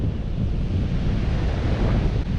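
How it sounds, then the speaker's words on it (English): Strong wind roars and buffets a microphone at sea in rough water, a dense, rumbling rush with surf-like surges and no pauses. "very windy with a chance of getting real wet."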